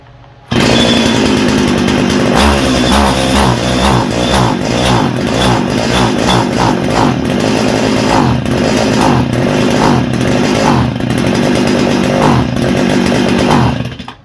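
A STIHL FS80R string trimmer with spark trouble fires up with the choke on and runs loud and close for over ten seconds, its two-stroke engine buzzing roughly and surging unevenly instead of holding a smooth speed.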